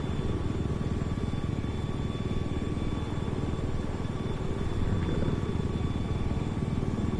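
Helicopter in Battlefield 4 lifting off and holding a steady hover, a constant close rotor and turbine drone with a fast rotor chop underneath and a steady whine on top, staying level throughout.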